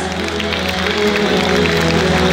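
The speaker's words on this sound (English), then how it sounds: "Dear audience, please give them a big round of applause" Audience applause at a school annual day ceremony for grade 4 merit holders, a steady, dense wash of clapping from a large hall crowd, filling the whole moment at moderate loudness with faint musical hum beneath.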